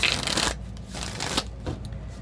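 Tarot cards are shuffled close up, a quick papery riffle followed by a few softer flicks and slides.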